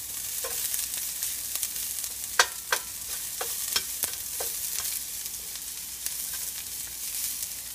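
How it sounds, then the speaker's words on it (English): Onions searing in a frying pan, a continuous bright sizzle with a scattering of sharp scraping and tapping stirs from a utensil, close and steady, with no talking. "I'm cooking it long enough to get some of these onions broken up. Get a nice sear going on them."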